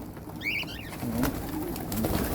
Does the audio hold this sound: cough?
no